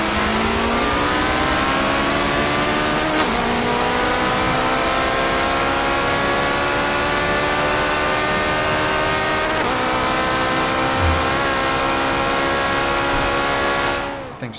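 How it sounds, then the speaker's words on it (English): A twin turbo V8 hypercar in Forza 7 screams through the gears, rising in pitch with several quick upshifts, loud, steady and continuous before cutting off abruptly. "It's a twin turbo V8. Listen to this thing scream."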